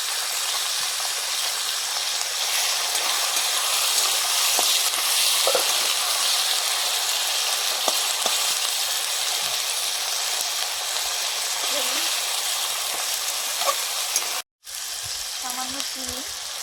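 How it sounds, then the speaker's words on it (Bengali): Onion paste and chopped tomato sizzling and frying in a pan, a loud steady hiss filling the whole stretch with occasional stirring clicks and a brief cut near the end. "পেঁয়াজ ভাজা হয়ে গেছে, এবারে দিচ্ছি বাটা পেঁয়াজ"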